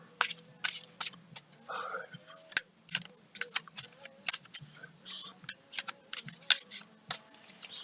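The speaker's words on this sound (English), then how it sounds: "I'm going to give the cards a shuffle" Close, crisp flutters and snaps of tarot cards being riffled and shuffled in quick bursts, with a voice softly counting between them.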